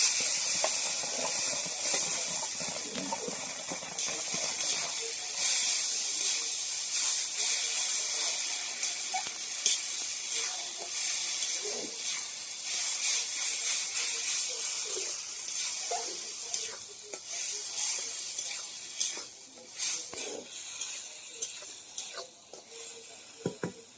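Pointed gourd paste hitting fried onions in a pan gives a steady broad hiss and sizzle with scattered crackles and small clicks, moderately loud and unbroken by voices.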